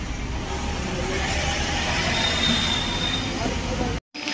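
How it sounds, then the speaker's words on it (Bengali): Ambient rumble at Santragachi railway station, a continuous dense roar of trains and platform noise with a faint high whine. A voice speaks over it, then the sound drops out abruptly near the end. "এই মুহূর্তে আমি সাঁতরাগাছি যে রেল স্টেশন রয়েছে সেই রেল স্টেশনের মধ্যে রয়েছি"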